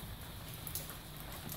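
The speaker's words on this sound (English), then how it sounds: "beautiful sounds with the rain" Early-morning rain in Bali falls as a soft, steady hiss of patter, even and unbroken for a brief moment.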